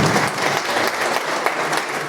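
Dense, steady applause from an assembly audience at a national transport federation gathering, many hands clapping together loudly and continuously with no voices over it.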